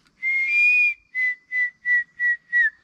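A man whistles an imitation of a crested serpent eagle's call: one long sustained clear note followed by five short evenly spaced whistled notes, close and fairly loud with no talk.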